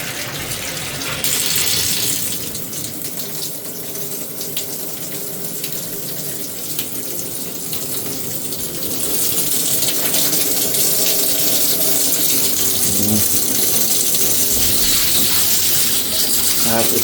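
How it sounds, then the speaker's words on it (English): Water runs steadily from a newly installed bathtub spout in a shower, a continuous close splashing rush that grows fuller and louder partway through, with faint clinks underneath. "Turn on our water."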